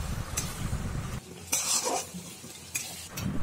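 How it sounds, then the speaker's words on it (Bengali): Kochur loti (taro stolons) being stirred in a pan over low to medium flame, with scraping spoon strokes against the metal and a soft sizzle underneath, a few distinct stirring bursts close up. "কিছুক্ষণ এটা স্টিয়ার করতে থাকতে হবে।"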